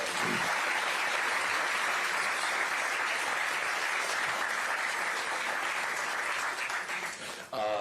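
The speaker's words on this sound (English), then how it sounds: "let's give them a round of applause as well." A briefing audience breaks into a loud, sustained round of applause that holds steady for several seconds before tapering, with a voice starting up at the very end.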